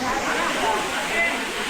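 Water rushes steadily at Bhivpuri waterfall as a dense, unbroken roar that fills the space, with faint voices of a crowd blended into the noise.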